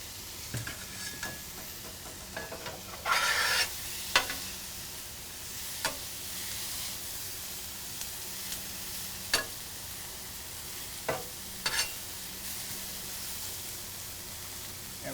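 Butter, peppers and onions sizzle on a Pit Boss griddle at a tailgate, a steady close frying hiss broken by sharp scraping clicks of a spatula stirring the food.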